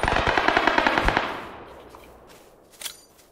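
Gunfire in the battle royale game PUBG Lite, a rapid automatic burst of close, sharp shots that trails off, followed by one more distant crack a moment later.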